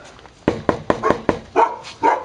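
Several puppies barking at home, a run of sharp, close yaps and yips coming in quick irregular bursts, some overlapping, with no talk.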